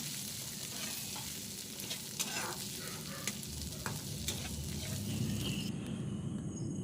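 Turmeric and salt-spiced mixture fries in hot oil for a vegetarian taro-greens dish, giving a steady, close sizzle that hisses on without pause and with no voices.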